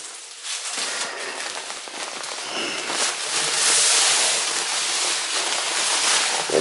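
Walnut tumbling media, 80 grit, pours into a Harbor Freight tumbler holding a motorcycle wheel, giving a steady dense hiss like rain that grows louder midway and runs on without a break, with no talk.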